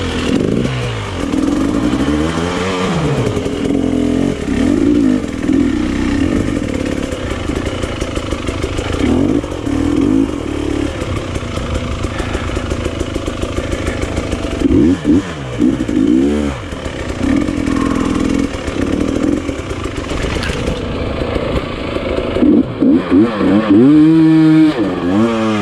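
Enduro motorcycle engine on a hard enduro training ride, revving loud and close through repeated throttle bursts and surges, with rattling and scraping from rough terrain throughout.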